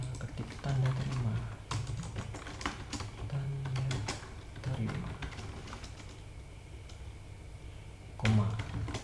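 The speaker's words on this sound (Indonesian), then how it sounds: "kita ketik tanda terima" Keys tapped on a computer keyboard while text is entered into a receipt layout in CorelDraw, a steady run of light clicks heard up close, with a couple of louder bursts of taps.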